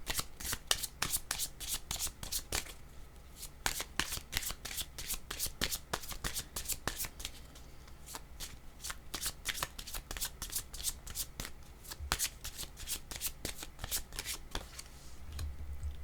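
A deck of cards shuffled continuously by hand, rapid riffling flutters and crisp slaps repeating in quick bursts, close and fairly quiet with no talking.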